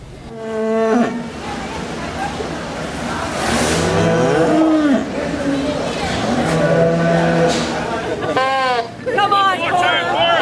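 Cattle mooing at the Durham Fair, several loud, drawn-out lowing calls from nearby animals, rising and falling over a busy fairground hubbub with people talking in the background.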